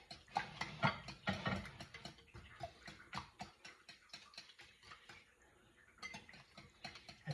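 A fork whisking eggs in a bowl for an oven-baked omelet gives a run of quick, close clinking taps against the dish, in fast bursts with brief pauses, and no one talks over it.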